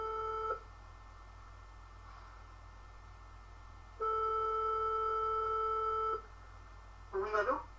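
Telephone tones on a French call being transferred to a Météo-France forecaster: two long steady electronic rings separated by a pause, then a short burst of sound as the line is picked up.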